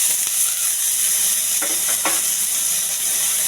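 Onion frying in a little oil in a wide pan, a steady close sizzle with a couple of brief louder crackles partway through, no talking.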